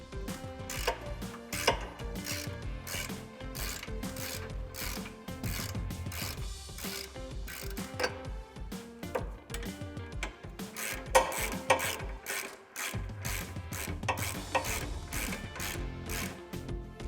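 Ratchet wrench clicking rapidly in bursts while loosening the driver's side Panhard bar bolt beneath a 2005-2014 Mustang, close metallic pawl ticks with short pauses and occasional tool clatter.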